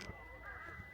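A single crow caws once in a short, faint call over steady background noise outdoors on Jeju Island.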